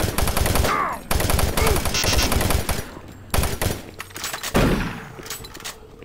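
Rapid automatic gunfire in the video game Doom 3, dense bursts of shots in quick succession with short pauses and some metallic clatter, loud and close.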